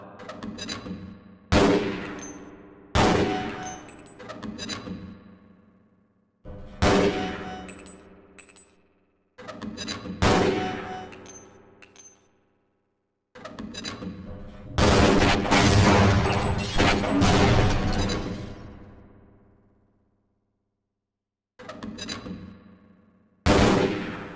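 Weapons fire at the Black Mesa training target range in Half-Life: Blue Shift, with repeated loud bursts of gunshots and grenade blasts separated by silent gaps, a longer sustained volley in the middle, and metallic ringing tails.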